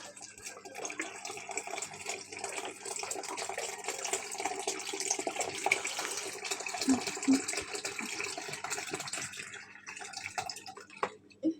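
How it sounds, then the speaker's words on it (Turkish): Milk being poured from a container into a bowl of pudding mix, a steady continuous liquid pour with faint splashing, alone and fairly close for the whole stretch. "Şimdi bir litre sütü ekledik."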